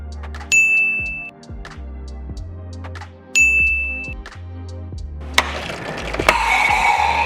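Pressure being released from the pump on a Taylor C712 soft serve machine: low mechanical hum with clanks and two sharp metallic dings, ending in a loud hissing rush of air, close by.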